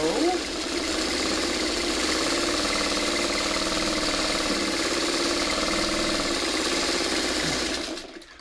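A sewing machine stitches quilt fabric pieces with a continuous, steady mechanical whir that runs loud and close for several seconds before winding down at the end.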